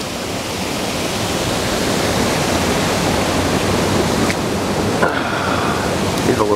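A small waterfall rushes in a steady, full roar close by, with a few faint splashes and clicks near the end.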